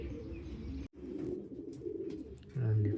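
Pigeons in a loft coo softly and steadily under a man's speech, one deeper, louder coo swelling near the end amid faint chirps.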